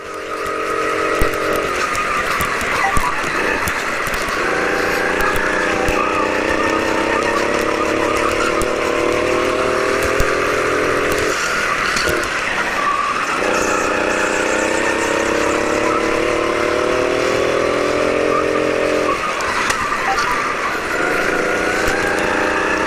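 A go-kart engine at Karting Madness Braybrook drones loud and close on the track, its buzzing pitch climbing on the straights and dropping away into the corners in repeated cycles.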